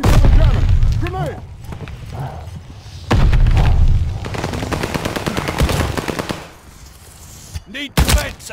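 Heavy gunfire and booming blasts from a Call of Duty: Vanguard multiplayer match, including a grenade explosion, come in loud bursts under shouted in-game voice callouts.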